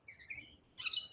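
Birds chirp outdoors in two brief, high, thin bursts separated by a short pause, faint against a quiet background.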